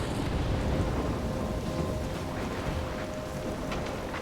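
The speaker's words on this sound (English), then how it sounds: "I'm trapped in a storm?" A thunderstorm in the game Life is Strange: steady heavy rain and wind roar continuously, with a low rumble underneath and no voices.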